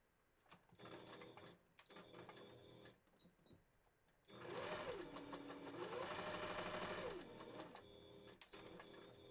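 Sewing machine stitching the edge of a foam wolf head, running in a couple of bursts with a whining motor pitch that rises and falls, loudest in a long steady run midway, with quieter handling noise between.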